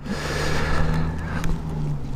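A motorcycle engine running with a brand-new exhaust line fitted after an exhaust repair, a steady, low, humming idle drone close by, alone without talking.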